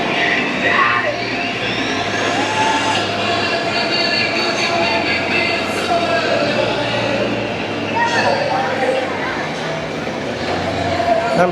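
The Joker roller coaster at Six Flags Great America runs on opening day, a loud, continuous rolling rumble and rattling track noise with voices in the background.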